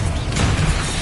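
A Confringo fire spell explodes in Hogwarts Legacy, a dense, loud blast with a rumbling low body that fills the short moment without any voice over it.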